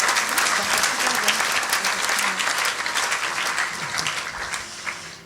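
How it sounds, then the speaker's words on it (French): A congregation claps warmly during a church baptism service, a thick, continuous burst of applause that starts strong and slowly thins toward the end, with faint voices mixed in. "On peut applaudir."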